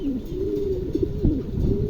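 Two large male pigeons, heavy birds around eight to nine kilos for the pair, coo in low, rolling repeated calls close by, with a steady murmur of other birds underneath.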